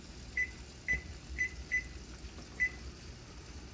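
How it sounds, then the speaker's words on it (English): A kitchen timer is set for a smoked bottom round roast with Yukon gold potatoes, giving five short, clear electronic beeps at uneven intervals over a faint background hum. "Set the timer for 35 minutes."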